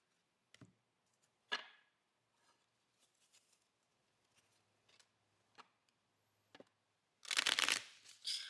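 Tarot deck of thin cardstock being shuffled by hand, with several soft riffling bursts spread through the clip and a louder, denser riffle of cards near the end, close and without talk.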